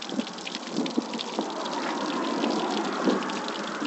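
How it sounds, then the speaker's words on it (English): Water trickles steadily from a boat's rinse fitting after a saltwater trip, a thin continuous splashing and gurgle close by with a few small spatters, no voices. "a little bit of water is coming out."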